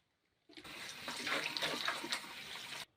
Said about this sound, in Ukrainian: Беремо речі і гарно їх виполаскуємо.